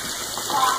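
Heavy cream, a double batch of about a pint, pours into a pot of chicken on the stove with a soft, brief watery gushing splash close by.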